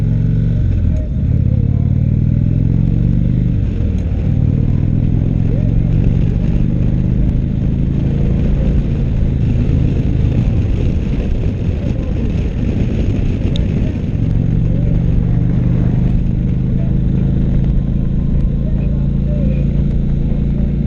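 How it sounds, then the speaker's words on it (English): A 2016 Indian Chieftain motorcycle on the road, a loud, continuous low engine drone with wind rush and a few rises in revs, while a rider talks over it. "we're gonna see what this bike has to offer real quick"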